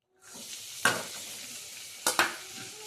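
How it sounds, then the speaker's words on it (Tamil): Onion, green chili, curry leaves, coriander and ginger sauté in hot oil with a steady close sizzle, broken by a few sharp scrapes of a spoon stirring the pan. "நம்ம இப்போ வெங்காயம், பச்சை மிளகாய், கருவேப்பிலை, கொத்தமல்லி, இஞ்சி எல்லாம் போட்டு வதக்கிக்கலாம்."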